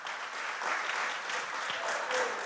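Students and spectators at a school quiz competition break into sustained, dense applause, the clapping loud, close and continuous throughout.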